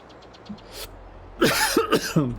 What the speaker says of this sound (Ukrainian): Це мій кашель.